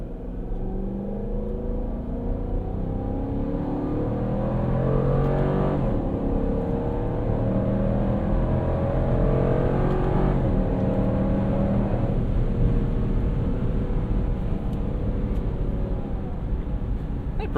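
Heard from inside the cabin, a 2022 Dodge Durango R/T Hemi V8 accelerates hard with a deep, rising engine roar climbing through several gear changes over a steady road rumble.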